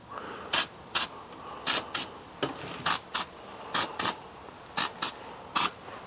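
Weld-through primer sprayed from an aerosol can onto a car panel, about a dozen short, sharp hissing bursts in an irregular rhythm, close and loud with quiet gaps between them and no voices.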